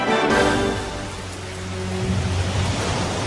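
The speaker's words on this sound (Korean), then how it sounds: "아빠, 비 와요." Steady, heavy rain pours down as a broadband hiss with a rumbling low end, loud and continuous, used as a sound effect in a narrated children's story about two men building houses before a storm.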